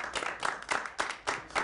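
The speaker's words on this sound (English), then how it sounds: "Round of applause for our guests." Applause from a small audience for guests at a film society event, with uneven clapping in swelling waves that sounds fairly close and soft overall.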